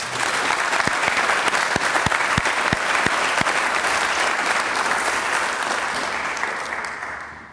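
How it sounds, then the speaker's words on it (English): An audience at a summer program awards ceremony claps in a full, continuous round of applause, with a few sharp individual claps standing out near the start before it tapers slightly. "So please give them a round of applause."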